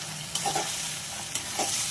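Cauliflower curry masala with a little sugar sizzles softly in a pan while being stirred, a quiet continuous fry punctuated by a few brief scraping strokes of the spoon, close and without talk.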